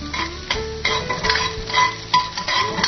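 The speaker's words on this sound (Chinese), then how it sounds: "这要用这油煸一下这香葱吗" Scallions stir-fried in a little hot oil in a wok, with repeated scraping and stirring strokes over a steady sizzle, close and fairly loud, with no talk.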